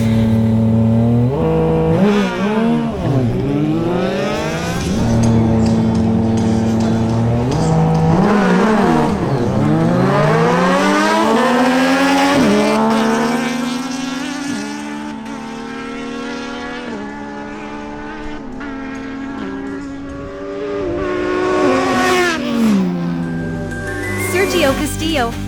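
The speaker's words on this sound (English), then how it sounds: "Martin Correa on his Kawasaki Ninja Z1000SX faces Sergio Castillo on his Yamaha MT-09." Kawasaki Ninja Z1000SX and Yamaha MT-09 motorcycles accelerate hard in a drag race, with loud rising engine revs and repeated gear-change dips over several seconds.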